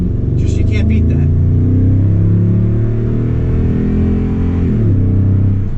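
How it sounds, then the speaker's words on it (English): A 2022 Toyota Tundra pickup with TRD dual exhaust rumbles with a deep, throaty exhaust note, rising and falling as it revs, loud and close throughout. "Here comes TRD Dual Exhaust"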